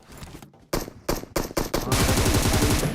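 Gunfire in the mobile battle royale game PUBG Mobile: several loud, sharp shots in quick succession, then a sustained rapid automatic burst, close and dominant with no speech.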